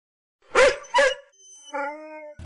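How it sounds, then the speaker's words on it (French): A dog gives two sharp barks and then a drawn-out howl, heard close and clear against silence. "C'est un chien."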